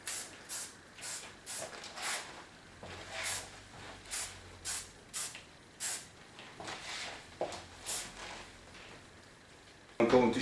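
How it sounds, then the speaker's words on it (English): Hairspray puffs out in a quick series of short, soft hissing bursts close to the head, roughly a dozen evenly spaced sprays over several seconds, ending with a sharper clatter. "Use a little bit hairspray."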